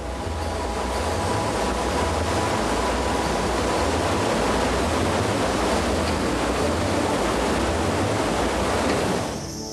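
A waterfall in limestone country in Mexico, a loud, continuous roar of falling water that holds steady throughout and cuts off sharply at the end.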